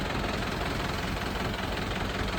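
A faulty diesel engine in a ten-year-old truck idles at a petrol station, giving a steady, continuous rumble with a rough knocking texture that holds level the whole time, with no voices.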